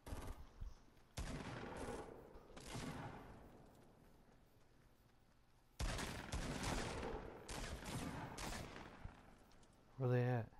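Rapid gunfire in the Fortnite video game, heard as loud, near bursts of automatic shots separated by short lulls, with a brief voice near the end.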